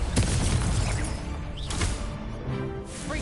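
Fiery Confringo blasting-spell explosions in the Hogwarts Legacy video game, a couple of sharp booming bursts rising out of a loud, dense wash of combat noise, with no talking.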